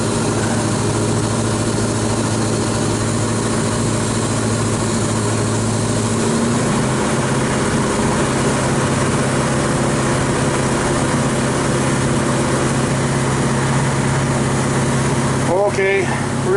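A Volvo Penta marine inboard engine, upgraded to full freshwater cooling, runs with a steady, loud mechanical drone and an even low hum throughout, with a brief disturbance near the end.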